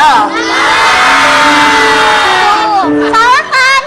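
A studio audience at a television show shouts in unison, a loud sustained crowd roar lasting a few seconds that drops, then bursts up again in short shouted chants.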